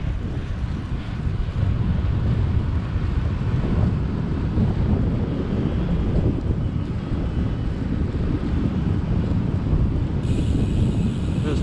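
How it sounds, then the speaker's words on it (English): Strong headwind roars across the microphone while cycling, a continuous loud rushing buffet filling the whole stretch with no letup and no talk. "Going into strong headwind."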